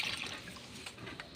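Rice-washing water poured from a container onto garden plants, a short, soft splashing and trickling pour heard up close.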